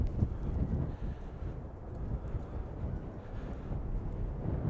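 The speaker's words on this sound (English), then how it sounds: "Oh, it's windy." Gusty wind buffets the microphone outdoors at a New York train station, a steady low rumble with irregular swells and no talking.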